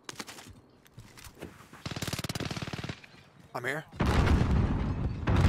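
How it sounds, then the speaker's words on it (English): Warzone gunfire rattles through a match, with rapid automatic bursts, a sustained stretch of machine-gun fire, a swooping effect and then a loud roaring barrage, while a player talks briefly over it. "Wait, I'm getting shot on my right."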